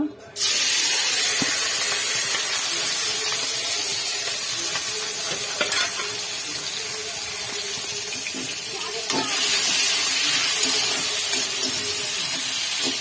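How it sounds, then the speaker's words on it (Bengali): Prawns frying in hot oil give a loud, continuous close-up sizzle and hiss that barely changes across the whole stretch, with small crackling spikes now and then. "এবার তেলের মধ্যে এই চিংড়ি মাছগুলো তেলের মধ্যে ভেজে নেব"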